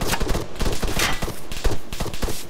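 Dense gunfire from many shooters in the video game ArmA III, a loud, close, continuous fusillade of overlapping rapid shots that keeps up throughout.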